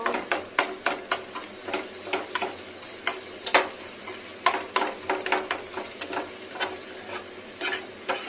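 Egg and eggplant frying in white oil and mustard oil, with a steady sizzle beneath a regular series of sharp scraping stirs from a spatula, close and moderately loud, with no talking.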